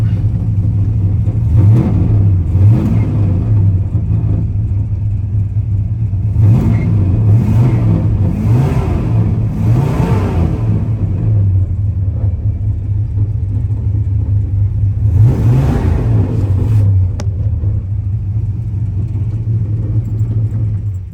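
A 1965 Dodge Custom 880 sedan's engine, started for the first time in three years, rumbles at a steady idle near the microphone, broken by several throaty revs that rise and fall in bursts.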